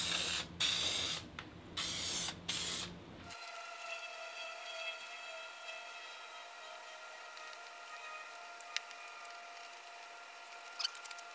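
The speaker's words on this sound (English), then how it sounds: "I'll just hit it with the spray adhesive right here" A few short bursts of spray adhesive hissing up close onto a car door panel, then a quiet room with faint background hum.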